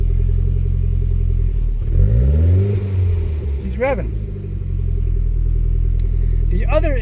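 A 1993 Toyota MR2's engine revs up, rumbling low and rising in pitch before settling, then revs briefly again, heard close by.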